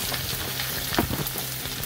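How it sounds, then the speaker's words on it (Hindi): Ginger garlic paste sizzles steadily in hot oil and butter, a soft continuous crackle with a brief louder burst near the middle. "स्टार्ट में हम इसमें जिंजर गार्लिक का पेस्ट डाल लेंगे और इसे थोड़ा सा भून लेंगे"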